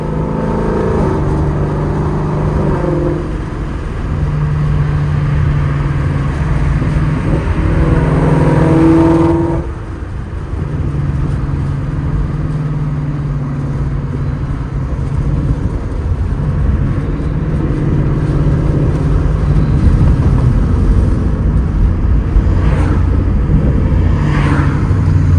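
A Ford Mustang GT 5.0 with a straight-piped exhaust and burble tune drives steadily, its deep engine drone and rumble heard from inside the car, with a brief lift off the throttle partway through and popping crackles near the end.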